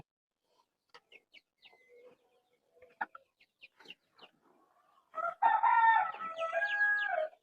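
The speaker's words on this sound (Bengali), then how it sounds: "এই যে দেখেন মুরগিগুলো, মাশাআল্লাহ।" Farm chickens give scattered soft clucks and chirps, then a louder burst of crowing and squawking fills the last couple of seconds, fairly close and with no speech.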